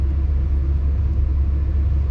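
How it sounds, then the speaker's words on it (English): A train, likely hauling corn, passes close by as a steady deep rumble that holds even and loud throughout, with no voices. "Another train."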